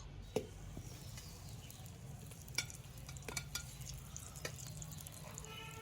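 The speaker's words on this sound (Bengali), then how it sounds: "তেলটা আমার গরম হয়ে গেছে। যে টিক্কাগুলো, আলুর টিক্কাগুলো আমি তৈরি করেছিলাম, সেটা আমি একটা একটা করে ছেড়ে দেবো।" Potato tikkis fry in hot oil over a low flame, a steady soft sizzle broken by a few faint clinks and taps, with no voice.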